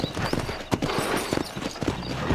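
A horse's hooves clip-clop at a steady trot in the Red Dead Redemption western game, close and loud with brisk rhythmic footfalls and faint creaks of tack.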